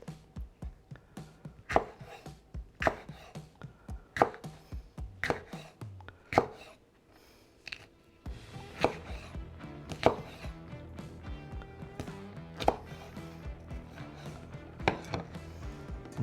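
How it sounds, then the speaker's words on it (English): A knife slices smoked beef on a cutting board for French dip, giving crisp, regular chopping strikes close by, with a short pause midway before the rhythm resumes. "Now I'm just going to slice these up a little bit."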